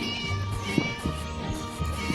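A cat meows in short, repeated calls close by, with background room noise and faint voices mixed in.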